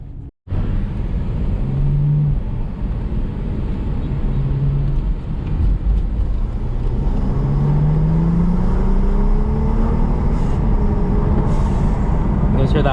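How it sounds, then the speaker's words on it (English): A BMW 640i Gran Coupe with an N55 engine and a TurboSmart blow-off valve drives under a loud continuous engine drone that rises and falls with gear changes, with a voice speaking over it. "Hear that blow off valve?"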